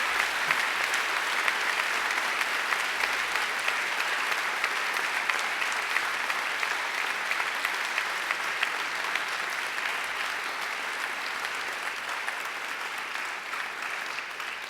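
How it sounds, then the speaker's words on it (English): Sustained applause from a graduation ceremony audience clapping for families and friends, dense and steady throughout with no pauses, a large crowd filling the hall without talk over it. "I invite you to give them a mighty round of applause"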